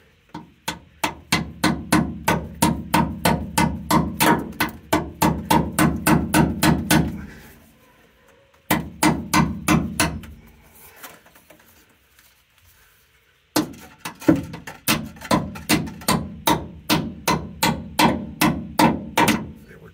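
A hammer drives a rear brake hose fitting into place on a 2004 Dodge Ram 1500, with rapid, even metallic taps in three long bursts separated by short pauses, close and loud, with no talking.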